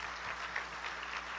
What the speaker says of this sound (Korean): 예수님한테 박수 한번 쳐봐